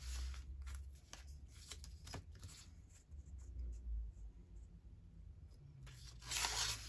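Paper is torn by hand for a junk journal collage, producing several close crinkling rips and rustles spread across the clip over low background hum.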